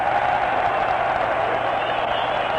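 A baseball crowd at Shea Stadium lets out a sustained mock cheer, a steady broad roar filling the park throughout, heard at a distance over a radio broadcast.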